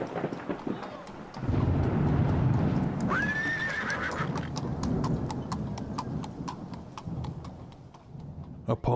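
A horse-drawn carriage arrives with a steady, evenly spaced clip-clop of hooves. One loud whinny rings out partway through, over a low rumble.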